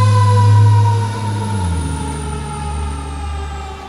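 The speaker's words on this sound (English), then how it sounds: "Every time I start a segment, the fire engine comes" A fire engine goes by with its siren blaring loudly, its engine rumbling and the siren's pitch drooping as it passes and recedes; there is no talk.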